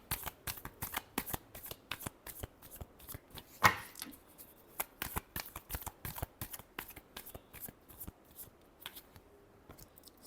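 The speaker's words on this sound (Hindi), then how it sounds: "Last shuffle." Tarot cards are shuffled by hand close up, a rapid series of crisp riffling flicks and slaps with one louder burst, quiet and alone.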